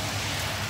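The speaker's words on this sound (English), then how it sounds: "It's raining." Rain falling outdoors, a steady dense hiss of drops on surfaces, continuous and fairly close, with no voices.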